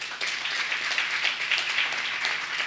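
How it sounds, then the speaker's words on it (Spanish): Applause from an academic forum audience in a hall, a brief steady patter of many hands clapping at moderate level with no talk over it. "así que creo que también se merecen un aplauso"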